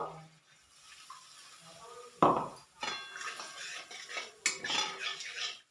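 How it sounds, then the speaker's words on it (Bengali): A little water goes into a spiced curry base for young jackfruit kofta in a pan, with clinking utensils, stirring and scraping against the pan, and intermittent splashing close by. "অল্প পরিমাণে জল ঢেলে দিলাম।"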